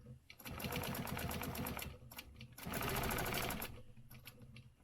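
A sewing machine stitches a square on fabric, running in two rapid, rhythmic bursts of needle clatter with a short pause between, close and clear.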